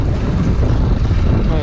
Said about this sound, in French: Le vent s'est levé, hein. La mer avec.